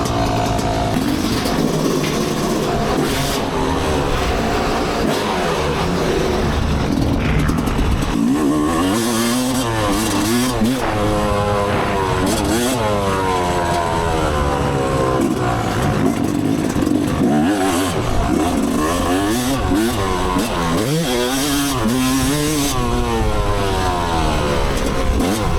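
Off-road dirt bike engine, likely a 450, revving hard and continuously close by, its pitch rising and falling through repeated throttle blips with a crisp, raspy tone and no talk.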